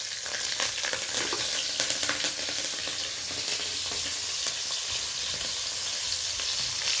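Half a spoon of black cumin and four or five green chilies fry in hot oil, making a dense, loud, continuous sizzle with a steady crackle and no talking.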